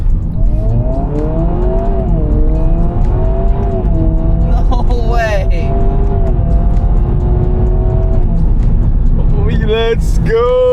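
A Honda Prelude fitted with a new downpipe accelerates hard, its engine note loud and close, rising and sweeping through the revs over a rumbling exhaust, with brief voices near the middle and end.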